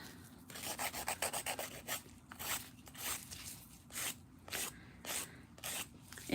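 A nail file rasps back and forth across a set of nails in short repeated strokes, close and fairly clear, with bursts of scratchy filing separated by brief pauses.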